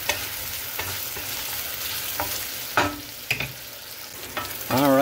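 Sausage and whole garlic cloves frying in oil make a low, steady sizzle punctuated by a few sharp utensil scrapes and knocks, with a brief squeaky scrape near the end.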